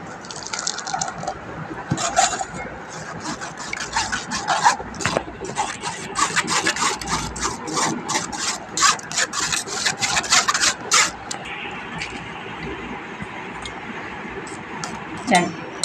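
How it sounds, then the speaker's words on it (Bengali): A liquid mixture for homemade maaza is strained through a mesh sieve, giving wet rubbing and trickling sounds in bursts with scraping in between, plus some faint background noise. "এভাবে আমি পুরোটাই ছেঁকে নেব"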